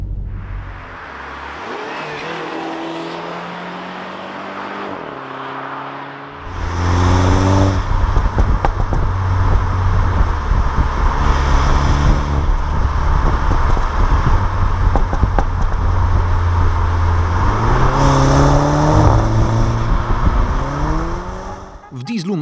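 A 2017 MINI Countryman (F60) revs and accelerates past with rising engine tones, heard from outside, loud and steady for most of the stretch after a quieter opening.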